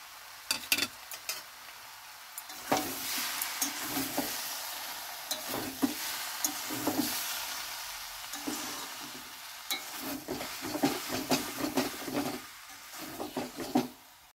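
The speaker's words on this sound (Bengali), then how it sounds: "এবার এই চিংড়ি মাছটা দিয়ে আবারও 2-1 মিনিট কষিয়ে নেব" Prawns and jackfruit sautéing in a pan: a steady sizzle of frying under repeated scraping stir strokes, close and fairly quiet, with occasional utensil taps.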